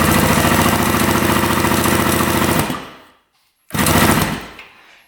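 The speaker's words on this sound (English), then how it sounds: "turn this thing on and then we'll just crank her over" A $100 2-stroke motorcycle engine cranks over with the throttle open, a loud, rapid, rhythmic chugging that stops abruptly, falls silent for a moment, then bursts back briefly before fading away.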